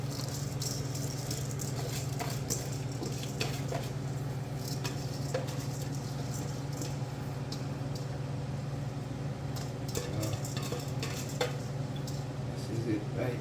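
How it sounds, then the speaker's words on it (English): A spoon stirs rice with red kidney beans in a pot, giving soft scraping and clinking against the metal over a low steady hum, moderately faint and continuous. "Then let's give it a stir. Mix up all those red kidney beans inside of the rice."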